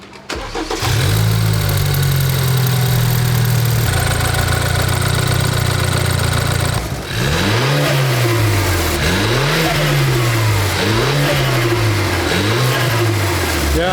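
BMW F30 engine fitted with a Go Fast Bits diverter valve starts with a steady hold, then revs up and down repeatedly in loud rising and falling sweeps, heard close with no talking.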